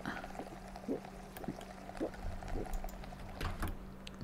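Water drunk in a zombie road trip video game, soft repeated gulping or sloshing liquid sounds in an even rhythm over a low steady background hum.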